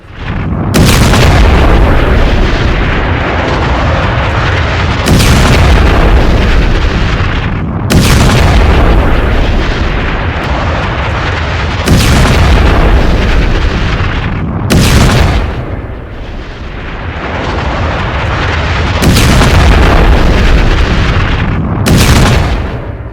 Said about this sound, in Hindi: लेबनान में इजरायली अटैक है।